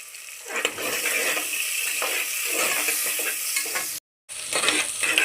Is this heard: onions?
yes